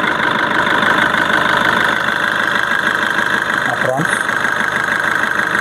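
A car engine idles with a steady, continuous hum and rumble, close by, holding an even level throughout.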